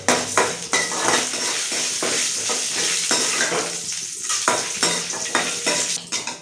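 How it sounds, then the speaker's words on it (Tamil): Oil sizzles steadily as lentils and cumin seeds fry in a pan, with a spoon stirring and scraping against the metal in intermittent clatters. "இது கொஞ்சம் நேரம் எண்ணெயில் வறுத்துக்கலாம்."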